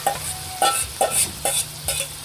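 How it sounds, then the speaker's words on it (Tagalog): Garlic and onion sizzle while being sautéed in a pan for pancit, with a steady loud frying hiss broken by five rhythmic scraping stirs of a utensil against the metal. "RJ po ay nagigisa na po ng bawang at sibuyas."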